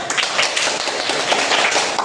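A classroom of students claps together in an Islamic religious studies lesson, a dense, steady patter of many hands sustained for about two seconds at moderate loudness with no talking over it.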